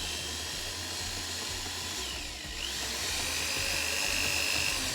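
Handheld power tool stirring honey into garden mint mead gives a steady, loud whirring motor drone with a high whine, continuous throughout with a brief dip midway, no voices.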